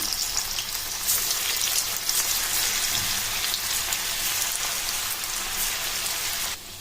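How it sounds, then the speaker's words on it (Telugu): Jowar flour pakodas deep frying in hot oil, a dense, continuous crackling sizzle like heavy rain, close and fairly loud, with no talking. "డీప్ ఫ్రై సరిపడా ఆయిల్ పెట్టుకొని ఆయిల్ హీట్ అయిన తర్వాత పకోడీలు వేసుకుందాము."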